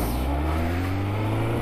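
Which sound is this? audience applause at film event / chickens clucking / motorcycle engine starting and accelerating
motorcycle engine starting and accelerating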